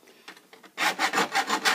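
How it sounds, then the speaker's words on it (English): Hand files rasping across a ceiling medallion, a few light strokes followed by a run of louder, rhythmic back-and-forth scrapes, close and alone. "Next, we'll take some files,"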